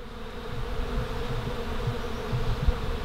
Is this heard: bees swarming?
yes